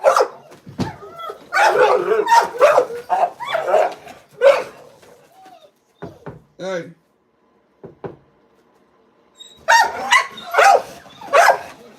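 Several dogs bark close by in a home, loud overlapping bursts of barking and yips in two clusters separated by a quieter gap with a brief whimper, while a person speaks briefly.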